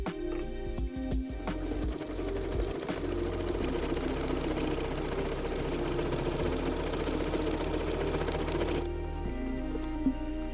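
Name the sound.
sewing machine stitching a buttonhole on a knit button band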